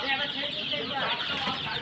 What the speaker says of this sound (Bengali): বাকি সোনালি মুরগির বাচ্চা আছে